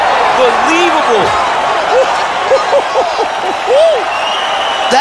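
An arena crowd in EA Sports UFC 4 roars and cheers after a knockout, a steady broad wash of noise with a commentator's voice speaking over it throughout.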